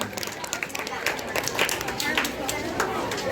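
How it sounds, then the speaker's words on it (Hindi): A classroom audience claps for a student after her performance, a burst of scattered, fairly close hand claps over murmuring voices. "रिया कुमारी के लिए एक जोरदार ताली होना चाहिए।"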